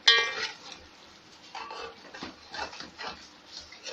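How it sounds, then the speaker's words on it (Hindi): Black pepper being mixed into Peshawari namkeen beef in a pot, with a sharp metallic clink at the start followed by soft scraping and stirring sounds, fairly quiet and close. "1 टीस्पून काली मिर्च आप डालेंगे इसमें और इसको अच्छे से मिक्स कर लें"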